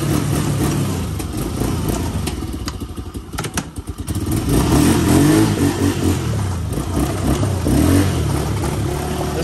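A Kymco 90 ATV engine starts up and then drives off, its small-engine drone rising steadily and holding loud and near, with a brief clattery dip before it settles into motion.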